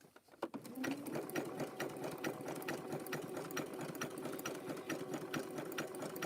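A sewing machine runs steadily, stitching rope and fabric, its needle clattering in a fast, even rhythm after a brief start, with a motor hum underneath and no talking.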